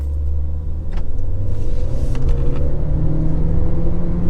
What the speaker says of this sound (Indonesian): meminta mekanik untuk memasang Hurricane XCS serta mencoba lagi akselerasi di tempat yang sama